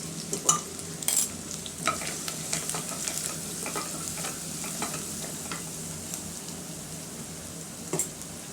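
Chopped onions sauté in a pan for rice-and-lentil dish, with a soft continuous sizzle and hiss under irregular close spatula scrapes and taps, no talking.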